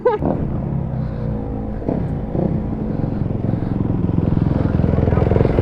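Dirt bikes pulling into a parking lot, engines rumbling and revving loudly close by, building to a steady throbbing idle, with someone talking over the noise.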